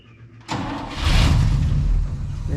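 An International Harvester C110 pickup fitted with a Chevy 266 engine cranks briefly, then catches and fires into a loud, rough, close-up rumble that settles into a steady idle.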